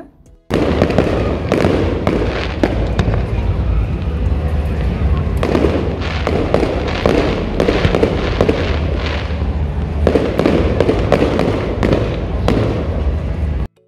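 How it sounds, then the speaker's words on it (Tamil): A fireworks display crackles and booms almost without pause for about thirteen seconds, loud and dense with rapid bursts layered over a rumbling roar, then cuts off abruptly. "பார்த்தோன்னா இதுங்க பேர் என்ன, ஃபயர் ஒர்க்ஸ் போட்டிருந்தாங்க."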